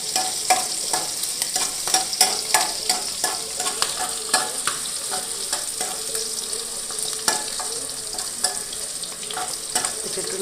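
Prawns sizzle steadily in a hot pan while a utensil scrapes and stirs them in a quick, repeated rhythm, close and clear with no talking.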